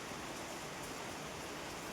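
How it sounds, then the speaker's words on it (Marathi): Steady hiss of the season's first rain falling, an even broadband wash with no distinct drops standing out, moderately quiet and continuous throughout with no voices. "एक नंबर पाऊस. पहिला पाऊस."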